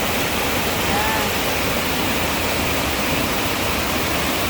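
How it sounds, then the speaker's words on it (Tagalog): A river stream beside a barangay in Bohol province, Philippines, rushes steadily. The loud, even wash of flowing water fills the whole stretch without pause, with no other sound standing out. "Papa, dyan papunta daloy ng tubig."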